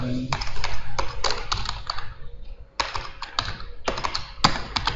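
A search typed into Google on a computer keyboard: bursts of crisp, close key clicks in quick runs, with short gaps where typing pauses.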